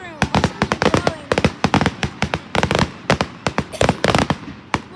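Fireworks going off in a rapid series of sharp, loud crackling bangs at an uneven rhythm, close and dominant, with brief gaps between bursts.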